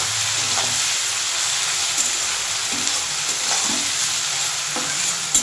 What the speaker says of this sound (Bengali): এবার পেঁয়াজটা আমি ভালো করে ভেজে নেব লাল লাল করে ভেজে নিতে হবে